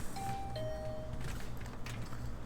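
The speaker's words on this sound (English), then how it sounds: "I rang the bell by the side of the door." A doorbell at a dorm room door in the video game Hundred Line, two soft electronic chime tones in quick succession over a quiet murmuring background.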